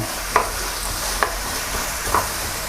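Pork cartilage with black pepper being stir-fried in a pan, a steady loud sizzle with a few soft scraping strokes of the spatula at regular intervals, no voices.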